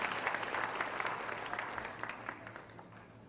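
Applause at a national congress of Brazilian evangelical Christian military members: steady, moderately distant clapping from a crowd, even and continuous across the whole stretch, slowly fading toward the end.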